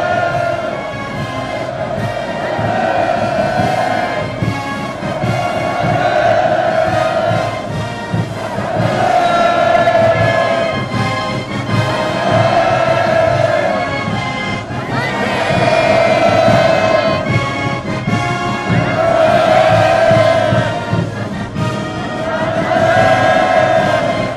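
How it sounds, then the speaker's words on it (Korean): A huge welcoming crowd lining the streets roars continuous hurrahs and cheers, the massed voices rising and falling in long rhythmic waves of chanted shouting that never lets up. "폭풍 같은 만세의 환호성을 터쳐올렸습니다"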